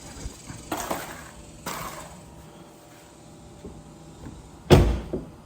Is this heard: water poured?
no